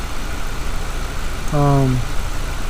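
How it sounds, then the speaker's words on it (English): A car's A/C compressor clutch, running on an A/C Pro recharge, cycles off with a short tonal drop over steady engine idle; a single brief change stands out in the middle of the idling hum. "when you hear it stopping, that's the compressor clutch"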